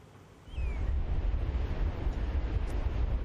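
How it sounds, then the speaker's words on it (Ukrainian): Wind and small waves on the Dead Sea shore, a steady broad rush with wind buffeting the microphone, starting abruptly and holding constant. "Це узбережжя Мертвого моря."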